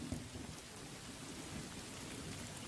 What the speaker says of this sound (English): Bring in the heavy storm.